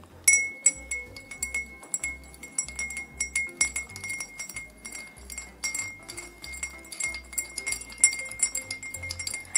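A spoon stirs salt and sugar into water in a glass, giving rapid, bright clinks and taps against the glass in an irregular rhythm throughout, close and clear with no talking.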